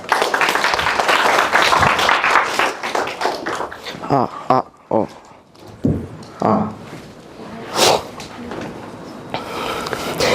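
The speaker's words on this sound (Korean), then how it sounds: "큰 박수 부탁드립니다." Audience applause greets two university student presenters at a multicultural-awareness idea festival, a dense burst of clapping for the first few seconds that thins out into speech and scattered sounds.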